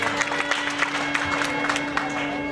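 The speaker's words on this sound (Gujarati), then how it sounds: "જોરદાર તાળીઓથી આપણે એમને વધારવાનું." Scattered clapping from an audience at a welcome ceremony for local officials at a Viksit Bharat Sankalp Yatra event in Bhavnagar, moderate and somewhat distant over a steady hum, with a few louder claps.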